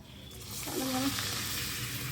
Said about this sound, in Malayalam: ഞാൻ കുറച്ച് ഓയിൽ ഉപയോഗിച്ചിട്ട് പപ്പടം ഫ്രൈ ചെയ്തെടുക്കുന്നത്